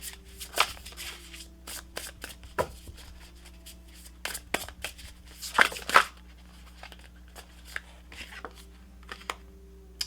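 Tarot cards are shuffled and drawn by hand, giving soft papery riffles and flicks in scattered bursts with quiet gaps, close by and without speech, over a low steady hum.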